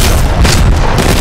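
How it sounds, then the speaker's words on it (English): An arc star grenade goes off in Apex Legends Mobile with a loud, dense electric boom that fills the whole short burst at close range, without any talking. "Throwing arc star"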